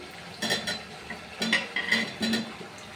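Potato pieces are dropped one by one into a pan of spiced omelette curry masala, making soft clinks and light sizzles at a steady pace, close and fairly quiet.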